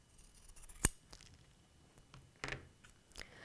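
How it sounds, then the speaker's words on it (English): A few sharp scissor snips trimming excess fabric from a T-shirt quilt during binding, quiet and close, spaced apart over a few seconds with near silence between cuts. "you can see I have way too much fabric, so I need to cut this off."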